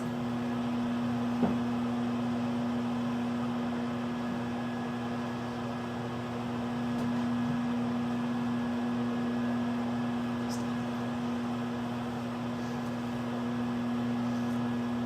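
A steady electric hum drones on unbroken from a microwave oven cooking a fruitcake, with a faint tick or two and no talking.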